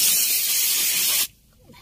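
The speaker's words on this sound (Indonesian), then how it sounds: "kita semprot yang ini" A can of cleaner sprays into a car's air-conditioning system in one loud, continuous hissing burst that cuts off sharply, leaving near silence.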